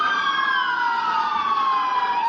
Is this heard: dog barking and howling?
no